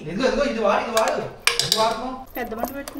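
A utensil works thick fufu dough in a pot with repeated clanks and scraping knocks against the metal, while voices talk over the cooking.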